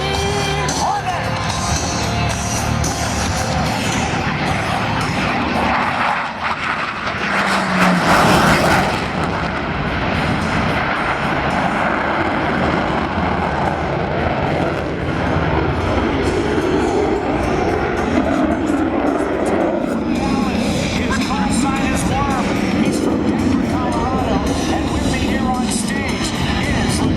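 A Boeing F/A-18E Super Hornet flies an air show demonstration at Sun 'n Fun 2012, its jet engines roaring loud and continuous, with a louder surge partway through and an announcer talking over the noise.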